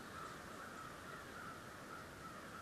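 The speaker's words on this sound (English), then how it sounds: "Now we have a murder of crow gathering." Crows calling in a forest, a quiet string of caws at a distance over faint woodland background, continuous and without talk.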